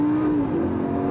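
A Lamborghini Gallardo LP560-4 with its V10 engine accelerates hard, giving a loud, continuous rising engine drone heard alone and close.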